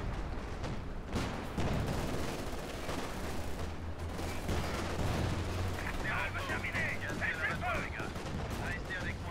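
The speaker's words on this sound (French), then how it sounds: "Ça va être artillerie." Artillery and gunfire on a D-Day map in a World War II video game sound as dense overlapping booms and shots, with a commentator talking over the battle.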